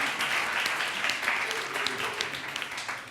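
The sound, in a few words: audience applause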